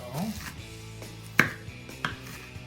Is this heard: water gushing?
no